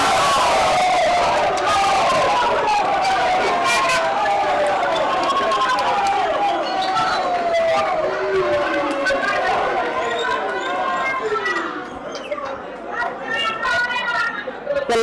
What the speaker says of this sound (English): The loud screams you've just heard in the crowd